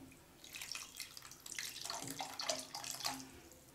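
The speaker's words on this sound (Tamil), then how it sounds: "இன்னும் கொஞ்சம் தண்ணி விட்டு சேர்த்துக்கலாம்." Water is poured into mango sambar in a cooking pot, giving a faint splashing, bubbling trickle that comes in uneven bursts.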